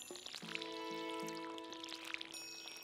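Water pours in a short splashing stream as crops are watered in Stardew Valley, layered with soft chimes and bright game tones, fairly quiet and steady for a few seconds.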